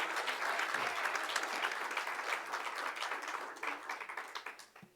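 A church congregation applauds steadily, dense continuous clapping from many hands that holds for about four seconds before thinning into scattered claps at the end.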